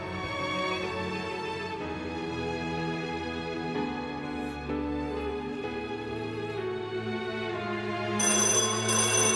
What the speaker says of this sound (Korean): 호련히 전화 소리가 울렸다.